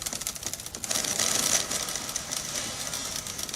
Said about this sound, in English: Man, that typewriter noise is making me crazy now.